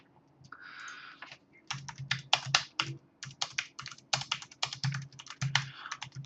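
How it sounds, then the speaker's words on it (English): Rapid clattering keystrokes on a computer keyboard, tapped in irregular bursts with short pauses, close and fairly clear against a quiet room background. "Right, apologies for typing."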